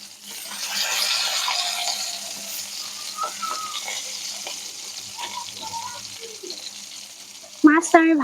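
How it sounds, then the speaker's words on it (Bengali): Seasoned salted nona fish fries in hot oil in a Bengali village kitchen with a soft, steady sizzle and faint crackles, followed by someone speaking briefly near the end. "মাছটা আমি ভাজতে দিয়েছি, একদম কড়া করে ভাজবো"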